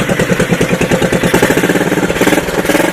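A Honda ATC 185S three-wheeler with freshly repaired ignition idles close by, its engine chugging in a steady, even rhythm of rapid firing pulses with a slight clatter, loud and alone for the full stretch.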